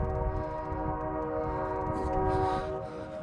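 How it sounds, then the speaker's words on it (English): A nearby train rumbles past with its horn blaring in a steady, sustained tone over heavy low-pitched rolling noise, loud and continuous throughout. "That train is loud and obnoxious."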